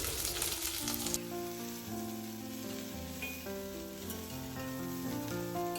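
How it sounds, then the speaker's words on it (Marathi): Okra frying in oil in a pan gives a steady, close sizzle that runs through the whole stretch, with a louder crackling burst at the start and music playing over it. "मी आता एका पॅनमध्ये थोडंसं तेल घालून भेंडी फ्राय करून घेतो"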